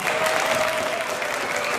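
Lawmakers in the Slovak parliament applaud after a vote, a dense, steady wash of many hands clapping at once, sustained and fairly loud throughout, with a faint voice briefly audible beneath.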